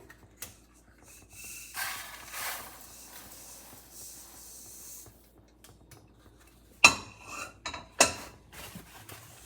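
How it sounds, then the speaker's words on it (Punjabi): Fenugreek being cut for achar on a metal thali plate gives a few faint, scattered knife taps and clinks against the plate, sparse and quiet with a couple of sharper strikes near the end. "ਹੁਣ ਆਪਾਂ ਜੀ ਇਹਨੂੰ ਕੱਟ ਲੈਣਾ ਹੈਗਾ ਥਾਲੀ ਦੇ ਵਿੱਚ"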